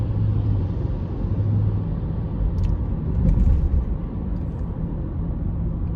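A 2004 Honda Odyssey EX minivan with a transmission fault idles and revs, producing a steady, close engine rumble that swells slightly midway while the vehicle struggles to move off.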